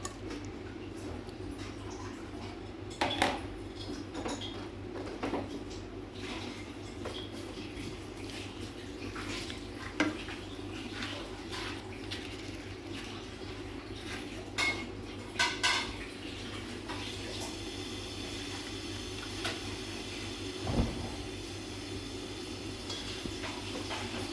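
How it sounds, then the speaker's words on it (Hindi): Chicken browning in hot oil in a cooking pan, a steady close sizzle running throughout with occasional metallic clanks of a utensil against the pan, and no talking. "चिकन को हम थोड़ा सा इसमें ब्राउन करेंगे, थोड़ा सा इसमें हम भूनेंगे चिकन को ऑयल में।"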